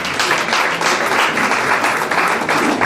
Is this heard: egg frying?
no